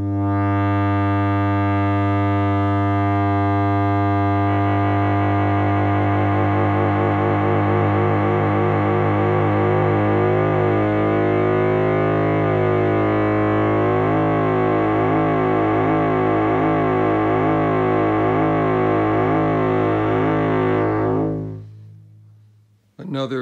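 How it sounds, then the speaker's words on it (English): Frequency-modulated oscillator tones from a dual sine/saw synthesizer card, a loud, rich harmonic drone with shifting, beating overtones, sustained for about twenty seconds before cutting off abruptly. "And then you can frequency modulate that and get some really rich tones"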